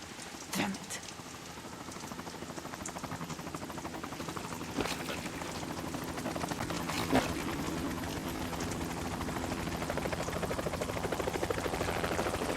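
A helicopter in the video game Metal Gear Solid 2, a fast steady rotor chop thrumming faintly and continuously throughout, with occasional sharp clicks and knocks over it.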